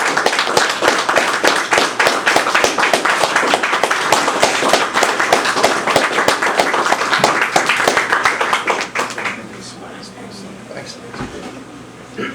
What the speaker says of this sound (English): Please, one more round of applause for